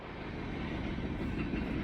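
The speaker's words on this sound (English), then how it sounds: "And then you got this lovely train, man." A train rolls steadily past at close range, a continuous broadband rumble with a faint rhythmic clatter of rail cars and no speech.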